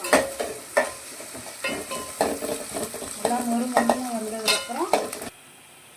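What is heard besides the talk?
sauteing with curry leaves for fish curry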